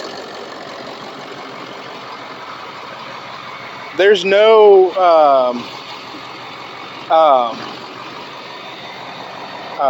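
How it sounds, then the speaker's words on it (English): A truck engine idles steadily and evenly in the background throughout, without misfire, with someone speaking briefly partway through over its low hum. "listen to how beautiful this engine sounds"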